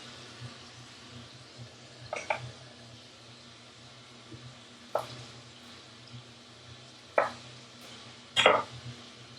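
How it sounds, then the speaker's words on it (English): A knife chops garlic on a cutting board for a seafood fideuà, landing as a handful of sharp, irregularly spaced strikes over a low kitchen hum. "We should start cutting the garlic."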